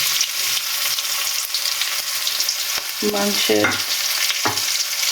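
Chopped onion and garlic frying in hot oil for beef kala bhuna, a loud continuous sizzle with scraping stirs and a few brief metallic clinks near the end.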